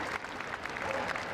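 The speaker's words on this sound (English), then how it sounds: "I think we should have a round of applause for our presenter" An audience at a dog obedience competition awards ceremony gives a round of applause for the presenter, a steady, moderately distant wash of clapping throughout the short moment.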